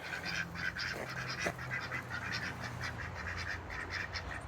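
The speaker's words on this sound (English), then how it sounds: "And over here I have a couple Peking ducks." A pair of Pekin ducks on a homestead give repeated honking quacks, steady and fairly close, over a faint outdoor background with no talking.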